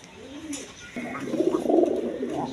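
Gola pigeons coo softly nearby in a low, rolling murmur that swells in the second half, with a brief faint sound before it.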